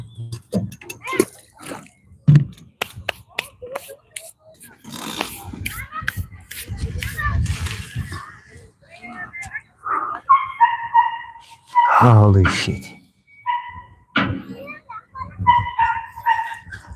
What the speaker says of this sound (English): The funny thing about that dog is he sounds more like something squeaking, you know?